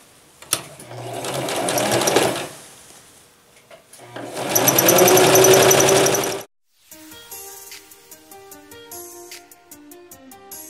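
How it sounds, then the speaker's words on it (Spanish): Sewing machine stitching the shoulder seams of a wrap dress: two loud, close bursts of rapid mechanical whirring, then it stops and light music plays on its own. "ahora vamos a coser hombros, hombro delantero a hombro espalda."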